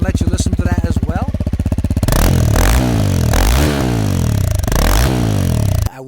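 Honda CRF300L rally-build motorcycle with a full exhaust system and quieting adapter: a loud, close idle burbles, then the engine is blipped in several sharp revving bursts that rise and fall before cutting back down.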